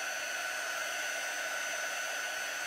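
A hair dryer blows a steady, loud, unbroken whoosh with a high whine, running close by to dry a chalk paste design.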